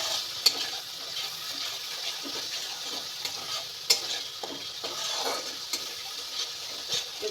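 Cauliflower curry with garam masala and pepper powder fries in a pan with a soft, continuous sizzle. Scattered light clicks and scrapes come from stirring. Close but fairly quiet, with no talking.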